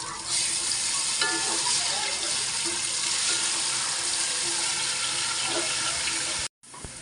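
Onions with garlic paste fry in a pan, a loud steady sizzle with faint stirring scrapes throughout that cuts out briefly near the end.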